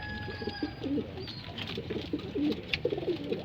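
Pigeons coo repeatedly while jostling over scattered food, soft throaty rolling calls near and far with a faint background hum and brief chirps.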